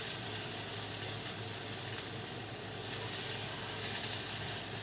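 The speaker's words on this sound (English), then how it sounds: "I'm going to brown up the hamburger first" Ground hamburger browning in a frying pan, a steady broad sizzle and hiss that runs continuously at close range with no talk.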